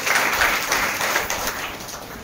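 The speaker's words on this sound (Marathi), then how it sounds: "सगळ्यांनी टाळ्या वाजवायच्या जोरात." An audience at a birthday celebration in a community hall claps in a steady, dense burst of applause, loud and close throughout.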